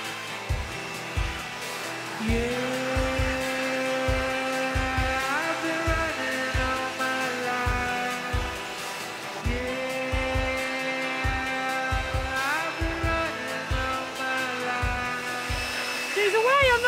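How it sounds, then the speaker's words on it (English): A new Makita blower runs at an Irish stone cottage renovation, its whine rising and falling in pitch as it revs repeatedly, with a close, loud drone under people talking. "We get a new Makita blower."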